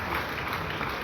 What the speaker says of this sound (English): Please keep clapping as they come.